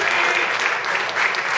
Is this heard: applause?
yes